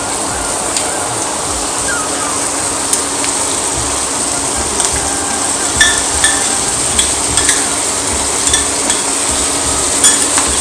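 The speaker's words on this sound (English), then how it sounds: "we need to put onion paste first and then tomato." Onion paste and tomato paste sizzle steadily in a pan while a spoon stirs, with a constant close frying hiss and light scraping clicks against the metal.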